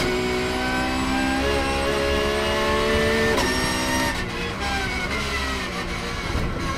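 A Porsche 911 Cup race car engine screams at high revs with sharp gear changes from its distinctive gearbox, the pitch dropping and climbing again, loud and close throughout, at the Nürburgring 24 Hours race.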